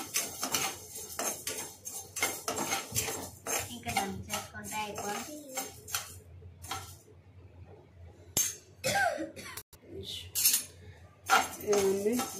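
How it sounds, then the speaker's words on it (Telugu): Coriander seeds, added after dried red chillies, roast in a pan. Dense metallic clinks, rattles and utensil scrapes come in quick bursts, with a voice speaking at times. "ధనియాలు వేగుతున్నాయి."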